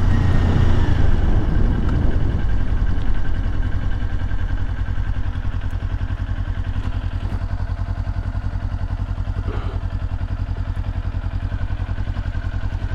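A 2022 Kawasaki Ninja 400 KRT motorcycle engine revs down through a downshift on a gravelly road, a loud steady near drone with rumbling low end that eases off after the first seconds, wind noise throughout.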